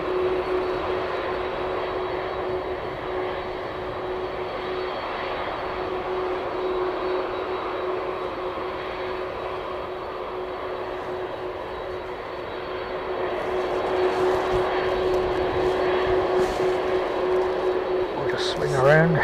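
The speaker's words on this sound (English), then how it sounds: "I'll just swing around for the bombardier coming in." Bombardier aircraft approaching Christchurch International Airport on a wet, windy day, a steady distant engine drone with a constant tonal whine that grows louder toward the end.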